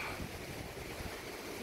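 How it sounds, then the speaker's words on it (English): Strong wind buffets the microphone at Richardson Beach in Hilo, Hawaii, at night, a dense, steady rushing roar with surf noise beneath, brief and alone. "but it's just really windy"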